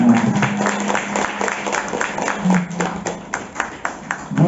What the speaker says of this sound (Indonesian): Tepuk tangan balik